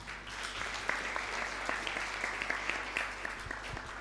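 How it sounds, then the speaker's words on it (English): An audience at an awareness-week event gives steady applause, a dense crackle of many hands clapping at moderate distance, quiet and even throughout with no speech. "let's give her a clap"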